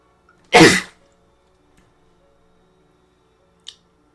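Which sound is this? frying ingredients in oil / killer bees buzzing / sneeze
sneeze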